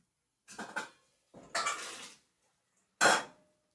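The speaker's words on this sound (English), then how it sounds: "I'm going to put the sweet potatoes in the boiling water" Pots and metal utensils clatter in a home kitchen while sweet potatoes boil on the stove, in three separate bursts of clanking and scraping with short quiet gaps between them and no talking.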